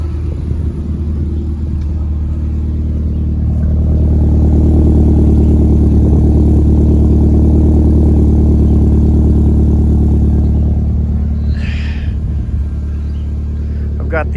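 A Volkswagen MK4 GTI with a K04 turbo under load, a loud, steady engine drone building in strength and holding, heard from inside the car with a brief high hiss near the end.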